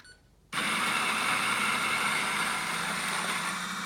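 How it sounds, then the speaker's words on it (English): An etzMAX coffee grinder starts abruptly from near silence into a loud, steady whirring grind that runs continuously, easing slightly toward the end as the chamber empties, with no talk. "you need to start and continue grinding"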